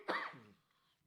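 One short, fairly loud throat clearing from a man, a single rough burst that fades out within half a second into quiet.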